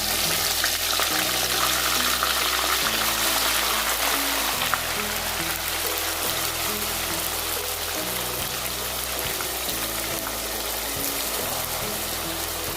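Onion, ginger, garlic and green chili paste frying in a pan, a steady loud sizzle with soft stirring scrapes running underneath throughout.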